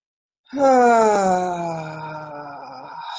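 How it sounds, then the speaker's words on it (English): A single long, deep vocal exhale, rising suddenly out of silence, groaning and sighing as it trails off over about three seconds, close and fairly loud, during a tapping session for building immunity. "we're just going to do that deep inhale and exhale through the mouth"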